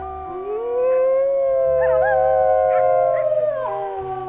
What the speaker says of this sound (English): Might as well do a pack rally while we're howling too.